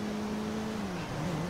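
A car in GTA 5 races along a motorway, its engine droning at a steady pitch that dips slightly and then rises again, a continuous moderate hum with no talk over it.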